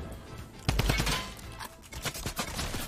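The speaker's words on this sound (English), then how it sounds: "Okay, it's exploding." A video-game explosion bursts out loud and close, followed by a scatter of crackling, popping blasts that trail off over a couple of seconds.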